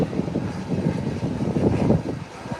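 An ATR 72 turboprop turning at the runway threshold before takeoff, a steady mid-distance engine drone with propeller rumble that swells slightly and stays even throughout.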